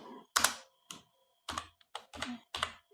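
Keys on a computer keyboard clack in quick clusters as a short list is typed into Microsoft Word, close and crisp, with brief pauses between bursts.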